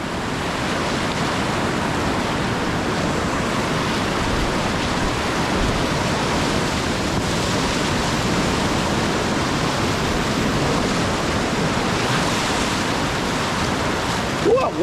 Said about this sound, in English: Little surf wave here.